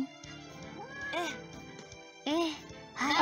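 A pet cat named Ella gives short, whiny meows, three rising-and-falling cries spaced apart, mixed in with a person talking close by.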